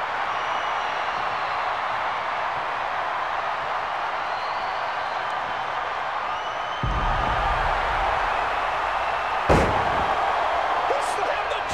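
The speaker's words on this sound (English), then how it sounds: "He slammed the Giant!" In WWE 2K14, Hulk Hogan body slams Andre the Giant in a WrestleMania III match. A heavy thud lands over a constant arena crowd roar, followed a few seconds later by a sharper second impact.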